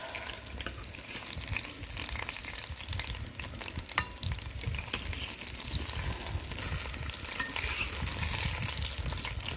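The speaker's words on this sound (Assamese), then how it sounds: "ধুনীয়াকৈ লৰাই উতল আহিবলৈ দিম।" Fried fish pieces being stirred in a simmering Assamese fish curry, a constant bubbling, hissing wash with faint scraping from the stirring, steady and close with no voices.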